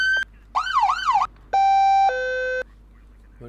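Police car sirens are tested in the Flashing Lights video game: a short tone, then a wailing yelp, then two steady electronic tones, loud and clear with no talking.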